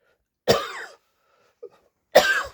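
Two sharp, close coughs separated by a short pause, with a faint small throat sound in between, alone in a quiet room.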